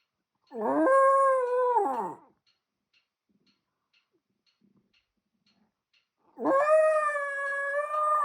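An indoor dog gives two long, close howls with wavering pitch, separated by a few seconds of near silence.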